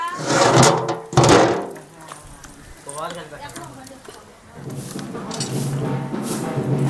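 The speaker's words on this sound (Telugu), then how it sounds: "మూత అయితే పెట్టేస్తున్నాం" A lid goes onto a large pot of chicken biryani, a 35-kilo batch, landing as two heavy metallic thunks early on, followed by people talking nearby.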